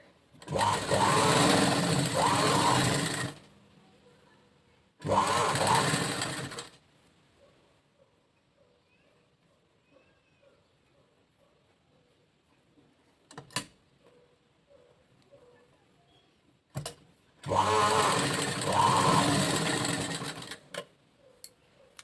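A sewing machine stitches blouse lining fabric in three loud, close bursts of rapid whirring, each lasting a couple of seconds, with quiet pauses and a few sharp clicks between runs.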